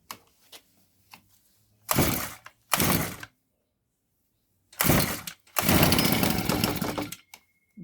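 A Honda GX25 engine on a brushcutter is pull-started: a few sharp cranking bursts, then a longer spell of rough running that cuts out and fires again, close and fairly loud.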